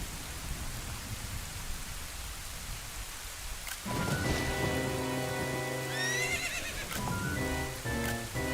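Rain hisses steadily in Zelda: Ocarina of Time on Switch, then a horse whinnies loudly over it, its neigh rising and breaking off, followed by further snorting calls.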